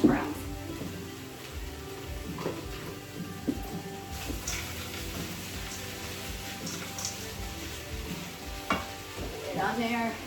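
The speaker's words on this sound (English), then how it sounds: "I gotta stir my hash browns." Hash browns crackle and sizzle steadily in a frying pan at close range, broken now and then by the scrape and clatter of a utensil stirring them, with no talk over it.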